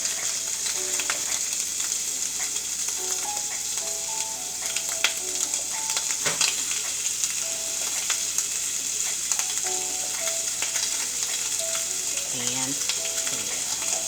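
Italian sausage ground meat frying in a pan, a steady close sizzle that runs the whole time, with light scraping and stirring from a utensil now and then.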